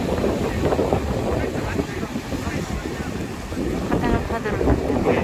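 Wind and waves on the sea off Jeju, a steady blustery rush with washing surges and wind buffeting the microphone throughout, and a voice speaking over it.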